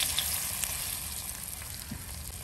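Tongue fish frying in coconut oil on a flat tawa gives a steady, close, continuous sizzle and hiss that holds evenly throughout, with no talking.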